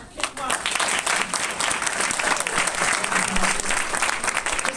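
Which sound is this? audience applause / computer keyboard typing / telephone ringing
audience applause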